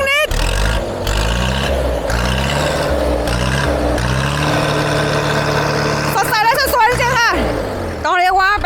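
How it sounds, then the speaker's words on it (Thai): An older New Holland 6610S 4WD tractor's engine runs steadily, a low continuous diesel rumble throughout, while someone talks over it from start to finish. "เดี๋ยวมาฟังเสียงเครื่อง ฟังเสียงเครื่องกันสิ"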